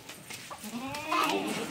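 Chickens on a farm give a few near, moderately loud clucks and rising calls with short gaps, and an indistinct voice is faintly present behind them.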